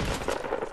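Rapid gunfire rattles in a video game shooter, a short dense burst of overlapping shots, loud and close, with no talk.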